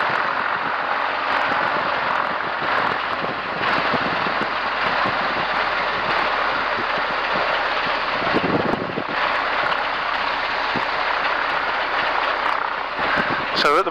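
Light aircraft engine running steadily and loud throughout while taxiing across a hard, bumpy grass airfield at an aerodrome before a wing walk, with a brief dip near the end.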